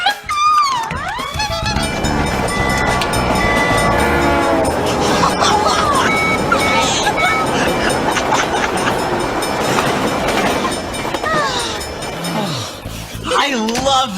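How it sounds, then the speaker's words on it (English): A train rumbles past with clattering wheels, and its whistle or horn sounds loudly near the start and again toward the end, sustained through most of the pass. "I love the sound of trains."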